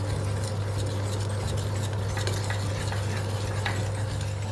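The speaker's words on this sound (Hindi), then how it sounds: "इसको कंटिन्यूसली स्टर करना है वरना ये जल सकता है।" Chocolate cake mixture with a splash of cream being stirred steadily in a pan on the stove, a continuous soft scraping and low bubbling sizzle with faint utensil clinks, close and even throughout with no talking.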